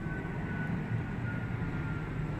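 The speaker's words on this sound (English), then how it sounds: "that's a very low flying plane" A low-flying airplane passes overhead as a steady, loud broadband roar with a droning low hum that stays constant throughout.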